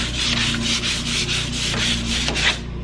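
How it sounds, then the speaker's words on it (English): Scuff sanding a wooden buffet and hutch with a 120 grit sanding sponge: close, loud, rhythmic back-and-forth rasping strokes, about two each second, with no talk. "I'm just going to use the 120 grit off my sleek brushes roll. And I'm just going to scuff sand it all over."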